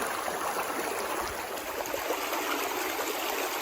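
A creek flows steadily over rocks, a constant broadband rush and trickle close by with no pauses and no voices.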